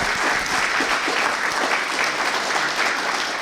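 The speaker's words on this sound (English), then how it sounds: "Let's give a big round of applause" Audience at a town hall meeting claps in a full, even burst of applause, loud and continuous for a few seconds with no voices over it.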